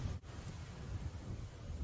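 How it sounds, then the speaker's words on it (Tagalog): Wind buffets a nearby microphone with a steady low rumble and gusty roar, with no voices present. "Lakas pa rin ang hangin."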